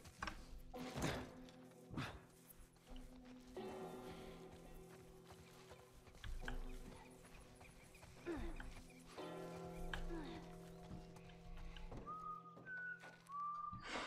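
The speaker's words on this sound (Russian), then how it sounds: "Я могу свистеть." A character whistles in The Last of Us, giving a few short rising and falling whistled notes near the end over quiet game ambience, footsteps and occasional thuds.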